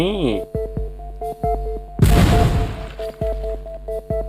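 Repeated gunfire from a robot in the mobile game Little War Robots, sharp rhythmic shots landing about every half second over a steady musical drone, with one larger burst in the middle.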